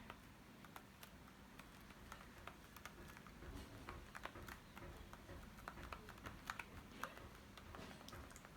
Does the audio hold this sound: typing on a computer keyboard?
yes